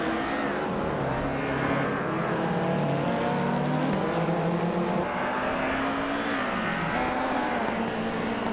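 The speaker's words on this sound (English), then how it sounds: "Schoolbus Rustefki is driving a 1992 Citroën AX GTI, starting in 10th place." Engines of race cars in a racing video game, including a 1992 Citroën AX GTI, drone and rev continuously, pitch shifting as they accelerate and change gear, loud and unbroken throughout.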